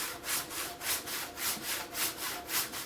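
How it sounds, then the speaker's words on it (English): A hardware-shop hand saw cuts through a block of solid carbon dioxide (dry ice), making about ten rhythmic back-and-forth rasping strokes, close and even, with no talking. "cutting the CO2 now with a saw"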